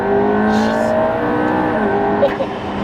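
A 1400 hp twin-turbo Lamborghini in a racing game downshifts and accelerates, its engine a steady loud drone with a brief blip near the end, heard alone.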